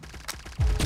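Gunfire in the shooter game Pixel Gun 3D: a couple of quick, fairly faint shots crack out in under a second against game ambience, with a heavier low thump near the end.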